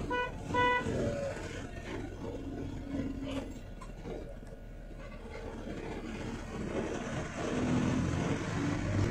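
A bus rolls along a narrow road through a small village on the way to Pujali, its engine a steady low rumble with road noise and a short horn toot near the start, all fairly loud and continuous.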